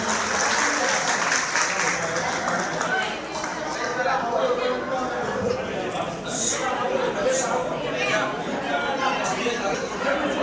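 An outdoor picnic crowd claps steadily and loudly to welcome donors, a dense continuous applause with chatter mixed underneath throughout.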